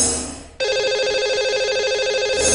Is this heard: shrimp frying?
no